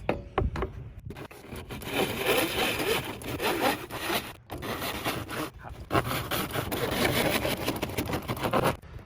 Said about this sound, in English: we're going old school with an old rusty saw